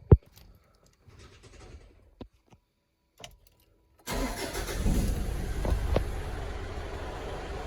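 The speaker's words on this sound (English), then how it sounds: "intake noises before and turbo noises." After a few faint clicks and quiet thumps, a Mitsubishi Triton MN pickup truck engine cranks and starts, then idles with a steady roar, intake whoosh and turbo noise, close by.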